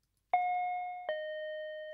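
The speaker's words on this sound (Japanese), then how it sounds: "迷うことなくチャイムを鳴らした。" A two-tone doorbell chime rings once at an apartment door: a clear, close ding followed by a lower dong, each tone ringing out and decaying slowly, with nothing else heard.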